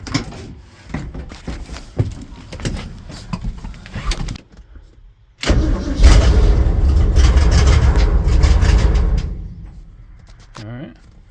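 A ramp truck engine, freshly worked on at the carburetor and running off a borrowed Skylark battery, cranks and catches in a loud, rough burst of several seconds, then fades, with people talking before and after.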